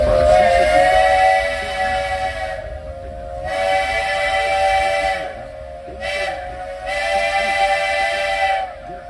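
Whistle of a Walt Disney Railroad steam train in Orlando, Florida: loud, sustained chime-like blasts repeated several times with short gaps, over the rumble of the moving train.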